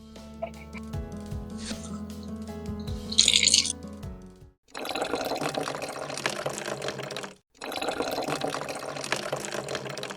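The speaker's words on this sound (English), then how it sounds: "Simply fill the bottle with warm water to the fill line." Water pours and gushes into a bottle in two steady bursts with a short pause between them, following a few soft clicks and handling sounds.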